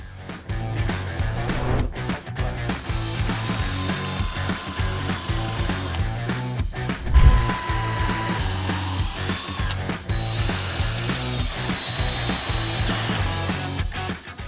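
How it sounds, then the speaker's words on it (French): A power drill pre-drills wood with a 4 mm bit while building a raised garden bed frame, whirring steadily and loudly up close for the whole stretch, with brief shifts in pitch and a short jolt midway. "nous allons pré-percer avec un foret de 4"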